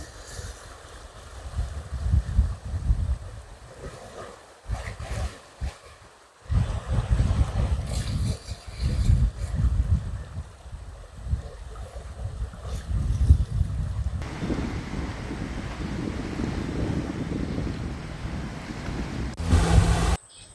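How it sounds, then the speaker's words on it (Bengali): Sea waves roar and wash onto the shore at Johor, Malaysia, with strong wind buffeting the microphone; the surging rumble is loud and continuous, swelling and dipping over about twenty seconds with no talk. "অসংখ্য ঢেউ, আর আর গর্জন শুনতে পাচ্ছে পানি।"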